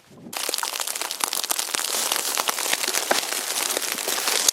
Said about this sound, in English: It started just as a rain, but I could tell it was pretty cold and might hail, and sure enough.